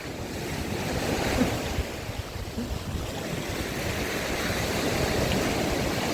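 Waves wash steadily onto the Odesa shore, a continuous roar of surf mixed with gusting wind buffeting the microphone, with no voices.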